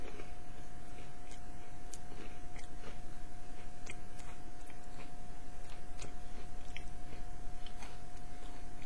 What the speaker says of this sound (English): let me take a bite of my cracker